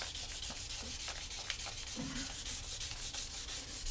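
A wooden spoon is sanded by hand with 600-grit sandpaper, giving a steady, close, rhythmic scratchy rubbing that runs throughout with even strokes.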